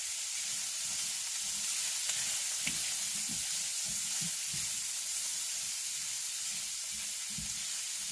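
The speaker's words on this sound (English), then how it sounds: "Just keep stirring these around. And I'm going to add the sweet peppers in there." Sweet peppers and other vegetables sizzle in a pan while being stirred, a constant bright frying hiss with soft irregular scraping knocks from the stirring, close and steady.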